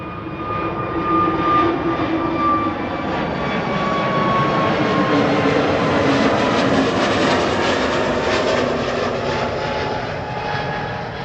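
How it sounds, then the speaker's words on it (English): A TAP Air Portugal Airbus A321neo departs from runway 24 at Amsterdam Schiphol, its engines giving a loud, steady roar that holds across the whole stretch with a faint whine riding above. "This is TAP Air Portugal going to Lisbon, A321neo"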